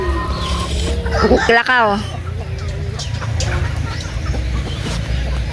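Several farmyard chickens cluck close by in short bursts, with one louder squawking call near the middle, while people talk over the flock.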